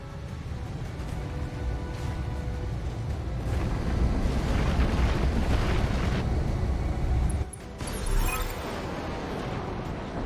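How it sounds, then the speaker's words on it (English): Ammo explosion in the BattleTech video game, a heavy sustained blast with deep rumbling roar that fills the whole stretch, briefly dipping before crackling debris and a final burst. "that is called an ammo explosion"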